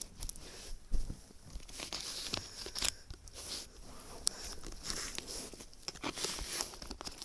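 Tonguç LGS book set packaging being torn and opened, with repeated crinkling, ripping plastic wrap and papery rustles in close, uneven bursts, no voices.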